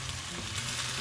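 Beef sizzles in a hot wok for a crispy stir fry, a steady, close frying hiss with no pauses.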